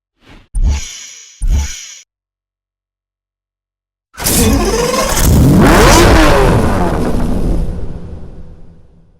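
A cop speed-enforcement car revs its engine in Need For Speed Hot Pursuit Remastered on PS4 Pro: two short loud blips, a two-second pause, then a sustained loud roaring rev with swooshing overtones lasting about five seconds.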